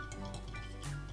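Olive oil drizzled over a Lebanese white bean stew with rice, a brief close, soft liquid dribble with faint drips and wet squishing.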